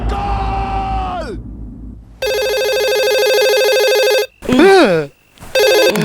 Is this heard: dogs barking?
no